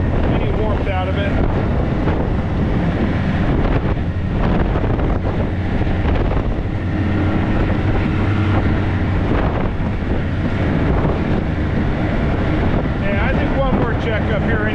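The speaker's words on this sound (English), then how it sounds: "this wind sure takes any warmth out of it." Cold winter wind blasts across the microphone outdoors on a trap line check, a loud, constant rumbling buffet with a voice faintly beneath it.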